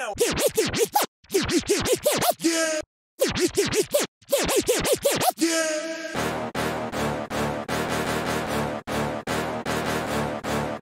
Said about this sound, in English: I'm scratching cue point 4 for 2 bars